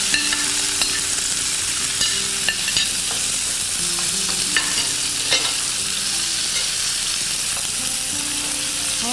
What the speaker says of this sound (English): you can put in your big onions for saute.